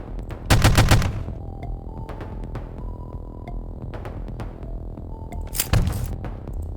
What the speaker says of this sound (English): We are immediately facing a sentry gun.